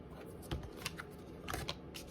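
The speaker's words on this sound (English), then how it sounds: "I've been shuffling for a while" Tarot cards shuffled by hand, giving soft irregular riffling taps and flutters over a steady quiet background.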